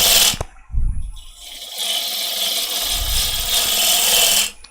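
A woodturning gouge scrapes and hisses against a spinning wooden bowl on a lathe as waste wood is cleared around the tenon, a short bright rasping cut after a few brief knocks, ending abruptly.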